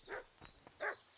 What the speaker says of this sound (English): صوت الكلب